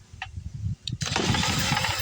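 A 1969 Sears Craftsman snowblower's small engine is spun with a drill in a brief whir, then catches and runs with a steady, loud mechanical drone close by.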